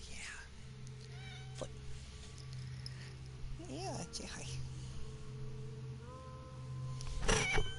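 A pet cat gives several soft, rising meows close by, with a low hum in the background and a person speaking quietly at moments, ending in a louder rustling bump.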